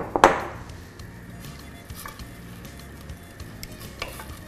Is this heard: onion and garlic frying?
yes